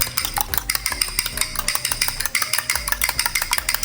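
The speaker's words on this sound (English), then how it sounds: "I'm just gonna whisk them with my fork while that oil is heating up" Two eggs whisked in a bowl with a fork, a fast rhythmic clinking and tapping of metal against the bowl, close and busy, with a low hum beneath.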